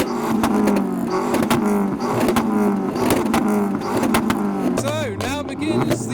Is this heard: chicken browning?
no